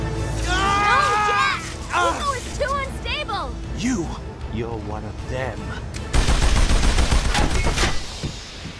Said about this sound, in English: Those crazy pirates must have shot us!